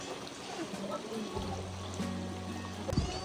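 River stream at the Nyampai campground in Rancabali, Ciwidey, where children play in the water, a faint trickling flow with soft splashes and a low hum, distant voices in the background.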